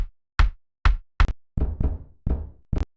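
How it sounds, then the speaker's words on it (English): A granular kick drum preset with a dirty character knocks out around eight hard hits, some sharp and clipped, others longer with a grainy rumbling tail, played alone at a moderate level. "And granular kicks."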